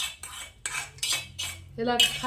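A spoon clinks and scrapes against a metal bowl while chivda ingredients are stirred, a quick series of close, bright metallic taps and rattles with no talk.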